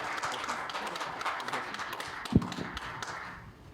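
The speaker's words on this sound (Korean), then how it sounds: "자, 큰 박수로 부탁드립니다." An audience at a construction industry forum breakfast talk applauds in a steady, dense wash of clapping that lasts throughout, with one sharper tap midway before it fades slightly at the end.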